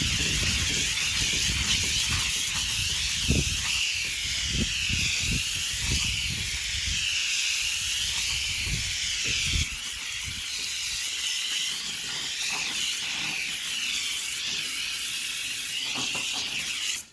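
A steady, broad hiss of water sprayed onto car wheels runs throughout, with irregular low thumps and splashes as the jet hits the rims up close.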